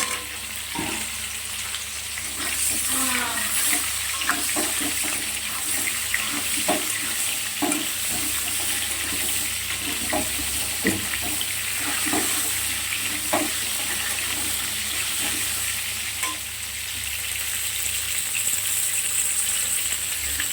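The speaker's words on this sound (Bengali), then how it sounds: "মাছগুলোকে ভেজে তুলে নিয়েছি, এবার ফুলকপিগুলো ভেজে নেব।" Cauliflower florets frying in hot oil after fish, a steady close sizzle running the whole time with scattered clinks and stirring knocks, no voices.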